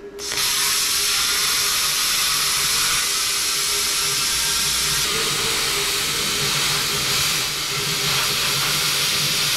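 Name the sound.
cutting through the air compressor tank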